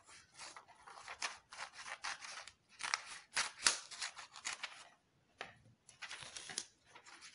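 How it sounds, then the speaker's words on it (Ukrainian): Scissors snip and slide through folded paper along a crease, a rapid series of crisp, close cutting strokes with brief pauses between bursts, quiet and without talk. "Розгортаємо і розрізаємо на 2 частинки по лінії згину."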